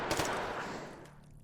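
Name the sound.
rifle gunfire in a video game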